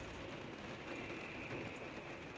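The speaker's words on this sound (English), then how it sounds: "That is what you call serious, serious rain. It is raining so much." Heavy rain pours down steadily in a constant dense hiss, close and loud, with no voices.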